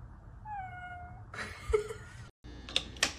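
A cat gives a drawn-out meow followed by several shorter, sharper cries, close and fairly loud, with household noise between them.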